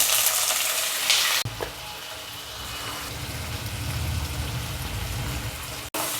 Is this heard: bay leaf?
yes